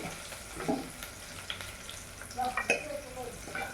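Mixed greens with lentils sauté in a pan, producing a soft, steady sizzle broken by a few scraping stirs of a spatula, close and fairly quiet, with no talking.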